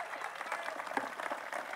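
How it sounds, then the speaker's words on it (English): Dense applause from a political rally audience, a continuous patter of many hands clapping at moderate distance, with a few sharper individual claps standing out and no break in the sound. "you and law enforcement deserve that applause and then some"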